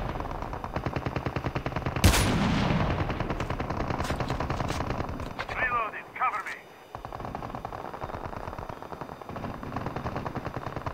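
Rapid automatic gunfire from Call of Duty Mobile in warfare mode, relentless loud bursts running almost the whole time with a sharp blast near the start and a brief lull, while a player talks over it.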